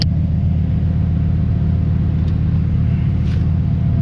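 A car heard from inside while driving on the road, a loud constant low engine and road rumble with no voices over it.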